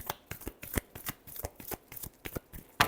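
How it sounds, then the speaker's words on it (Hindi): Tarot cards being shuffled, a quick series of around a dozen crisp riffling slaps in a steady rhythm, close and distinct with no talking. "last shuffle"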